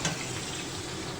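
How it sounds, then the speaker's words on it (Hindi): Chicken pieces fry in a pan with garlic and ginger, giving a steady dense sizzle that holds close and even throughout with no talking over it. "अभी सिर्फ लहसुन अदरक के अंदर जो है हम चिकन को फ्राई करेंगे।"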